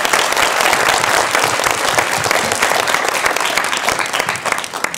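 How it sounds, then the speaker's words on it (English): An audience at an iOS app demo day applauds in sustained, loud clapping that fills the room without pause. "Another round of applause for WYD."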